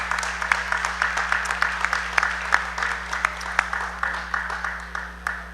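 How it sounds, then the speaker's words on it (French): Audience applause at a folklore show, a crowd clapping with distinct individual claps, fairly close and moderately loud, continuing steadily throughout. "Merci de l'applaudir, ça vaut vraiment la peine."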